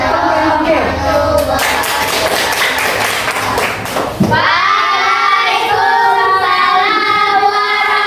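Classroom of students applauding a discussion group, a dense burst of many hands clapping for several seconds before easing into a softer, scattered patter with room noise.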